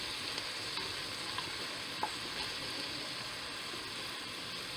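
Chili ingredients cook in a little olive oil in a pot, a quiet, steady sizzle with a few faint clicks and stirring taps and no talk over it.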